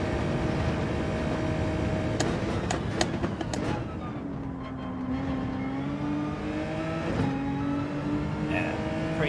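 A Porsche race car in Gran Turismo 7 revs and shifts through gears, engine tone climbing and dropping with sharp shift breaks, another car's engine droning close by.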